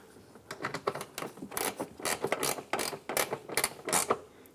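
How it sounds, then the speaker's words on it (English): Gear wrench ratcheting a nut snug on a 2007-2012 Nissan Versa tail light, a close run of quick, irregular clicking bursts with no talk over it. "Using our gear wrench, we want to go ahead and gently snug that down."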